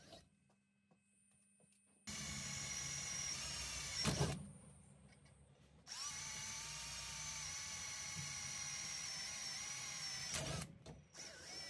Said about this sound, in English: I just use a size 13 drill bit. And I just give the edge a little chamfer